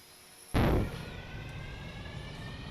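A sudden loud burst from an engine thrown to full throttle in Stormworks, settling at once into a steady, sustained roar that carries on to the end.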